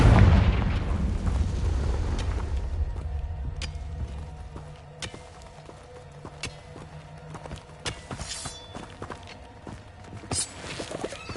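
A Confringo blasting spell from Hogwarts Legacy erupts in a heavy, rumbling burst at the start, then fades into scattered thuds, clicks and footstep-like knocks that continue at a quieter level.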